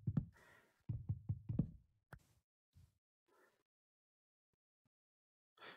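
Blocks being broken in the game Minecraft: a rapid run of sharp knocking hits in quick succession, then a few scattered taps and small crunches, near and fairly loud with no talking.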